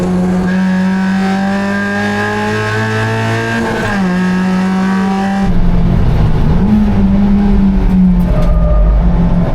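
A loud, sustained racing car engine in a video game drones steadily, pitch shifting as it revs and downshifts, with a rougher burst of gritty noise in the second half.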